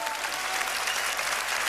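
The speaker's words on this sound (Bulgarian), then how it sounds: "Аплодирайте го" An audience applauds after a paso doble dance performance on a celebrity dance show, with dense, steady clapping from a large crowd that stays loud throughout.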